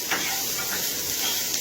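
Chopped onion sizzles in hot oil for a misal tempering, a steady, close hiss of frying with slight stirring texture and no pauses.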